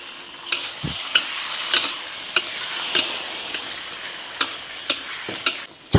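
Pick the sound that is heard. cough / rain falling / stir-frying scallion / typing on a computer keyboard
stir-frying scallion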